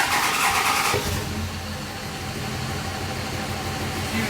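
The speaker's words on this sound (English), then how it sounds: "Jump on the throttle real quick." A tuned car engine held at wide open throttle for a power run, a loud steady mid-pitched roar that settles into a sustained drone after an initial burst, close by with no talk.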